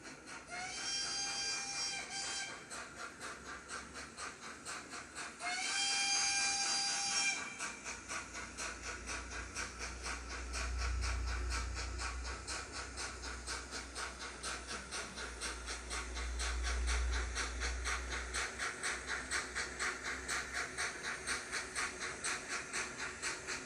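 Steady rhythmic chuffing of a model steam locomotive with hissing steam, a low rumble and two high whistle-like tones early on.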